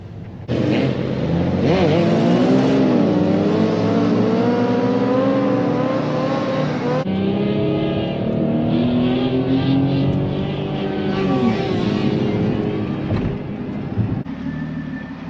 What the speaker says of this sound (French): Un taxi blanc à grande vitesse.